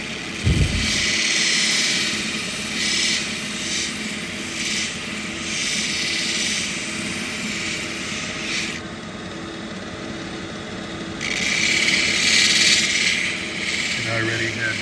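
A tilt wheel grinds and polishes a SE Missouri agate, giving a loud steady abrasive whir with rubbing texture that drops back and surges again as the stone is pressed to the wheel.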